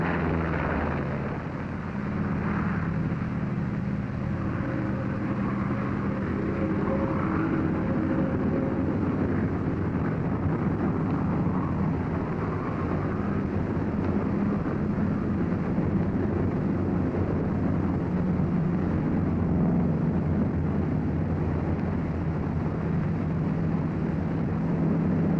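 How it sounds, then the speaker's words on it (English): A World War II P-47 fighter plane roars on its takeoff roll down a runway, a continuous, heavy engine drone that holds steady and loud throughout, with no talking. "Throttle forward with a steady positive motion. You're flying your 47 down the runway."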